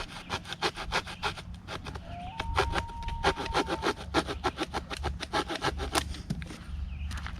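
Survival hatchet's saw blade cutting through a wooden stick outdoors, a steady run of close, rasping back-and-forth strokes for several seconds, with a faint whistle-like tone partway through.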